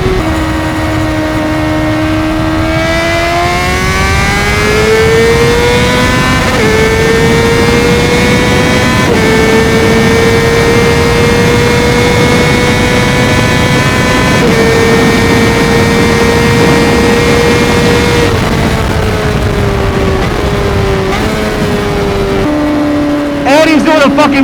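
A motorcycle engine runs loud and steady while the rider pulls a wheelie, the pitch climbing and holding in stepped rises before easing off near the end, with faint voices underneath.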